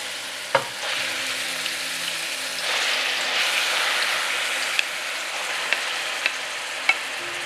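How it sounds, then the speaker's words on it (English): Chopped garlic, ginger and onions sizzle steadily in hot oil, a loud continuous frying hiss broken by a few sharp crackles and pops, with no talking. "Alright, so our oil is hot, so now we are gonna add the ingredients."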